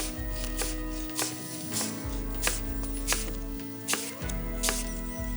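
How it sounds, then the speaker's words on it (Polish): A knife chops steadily through firm apples on a board, sharp cuts landing every half second or so over a low background hum. "przystępuję do krojenia"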